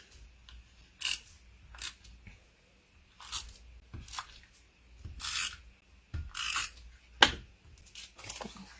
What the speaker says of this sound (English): Just cut them out and play with them.